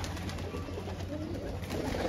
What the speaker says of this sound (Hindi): कबूतर खोल दिया मैंने